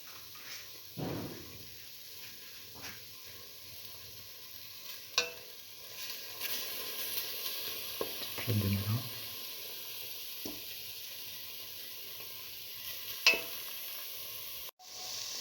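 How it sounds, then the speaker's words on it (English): Two eggs frying in a pan, giving a steady hiss of sizzling oil, broken by occasional scrapes and clinks of a utensil, with a louder stirring clatter midway and a sharp knock near the end. "2 eggs, and let them fry"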